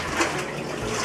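Water pouring and splashing out of a soaked fursuit being washed, a steady broadband gush that runs for about a second without any voices.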